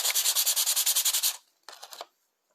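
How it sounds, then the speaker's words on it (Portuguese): Sandpaper is rubbed along the edge of a wooden egg in rapid, close, rhythmic strokes, then a pause and a second shorter burst of sanding. "por último eu vou lixar a bordinha"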